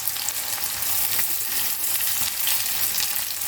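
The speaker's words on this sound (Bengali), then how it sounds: "কড়া নিয়ে যে আমি পেঁয়াজটা ভেজে নিচ্ছি" Onions frying in oil in a separate kadai, a dense, steady sizzle that stays loud and even throughout with faint scraping, no voices.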